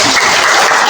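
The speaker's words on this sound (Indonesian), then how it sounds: "Tepuk tangan untuk Kayla." Classmates clapping for a student after her presentation in a high school classroom in Aceh, a loud, dense patter of hands lasting under a second.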